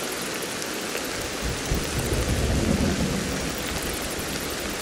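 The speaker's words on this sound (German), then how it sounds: "der Regen, der lässt sich ja nicht nach." Heavy rain hisses steadily in Ancestors: The Humankind Odyssey while a low roll of thunder swells in the middle and fades, the downpour continuing alone throughout.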